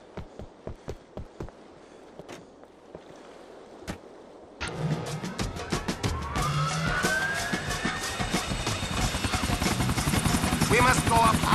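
Video game helicopter: sharp, evenly spaced thumps first, then a loud, dense rotor roar kicks in and builds, mixed with a siren-like wail and other game noise.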